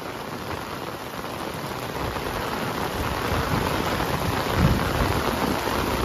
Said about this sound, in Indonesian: karena hujannya deras banget